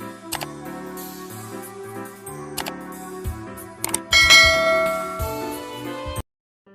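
A bright chiming notification bell plays loud and alone over a sustained musical tone, with several struck accents and a fuller ringing burst near the end before cutting to silence.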